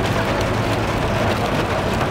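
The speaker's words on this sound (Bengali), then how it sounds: "এখানে ভয়ঙ্কর জোর বৃষ্টি হচ্ছে," Heavy rain drums steadily on a car moving slowly through a downpour in the hills near Mirik, a dense, unbroken roar with no voices.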